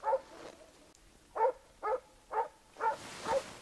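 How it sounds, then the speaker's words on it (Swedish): A small hunting dog on a wild boar driven hunt in Turkey gives six deep, gruff barks, one near the start and five in a steady rhythm toward the end, sounding somewhat distant and moderately loud with no voices. "Jäkla grovt skall i den lilla hunden."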